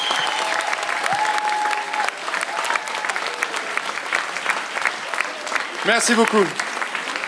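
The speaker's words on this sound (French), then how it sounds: "vous pouvez les applaudir bien fort" After a school orchestra performance, the audience gives long, steady, loud applause throughout. Someone speaks briefly over the clapping, and a short sung or shouted voice rises near the end.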